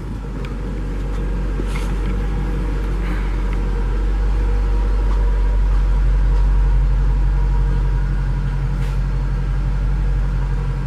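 A Chrysler 300 SRT8 with its completely stock exhaust idles steadily, a deep, loud, even rumble close by with no voices.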